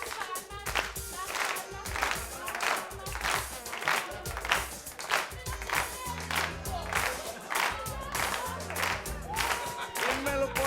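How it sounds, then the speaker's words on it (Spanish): A studio audience at a Caso Cerrado courtroom TV show claps in steady rhythm for the whole stretch, sharp hand claps repeating evenly over backing music. "Las palmas, las palmas"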